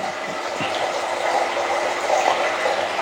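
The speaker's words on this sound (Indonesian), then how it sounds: "Sekarang tugas Pak Jimat sambil mendengarkan suara air gemericik" Steady trickling water runs continuously at moderate level, an even, unbroken flow with no voices over it.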